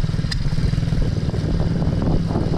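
An MRF 80cc motorcycle engine revs and holds at steady throttle, a loud close buzzing drone with a rapid pulsing beat and a brief clatter near the start, no talk.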